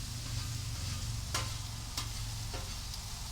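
Onions fry on a flat top griddle with a constant close sizzle, broken by a few sharp scrapes as a spatula tosses them around.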